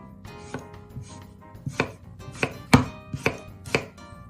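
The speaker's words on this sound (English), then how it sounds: "just fix the kitchen knife blade and make shallow cuts" A kitchen knife makes shallow cuts into vegetables being prepared for quick yogurt pickles: about eight close, crisp chops land at an uneven pace, with no talking.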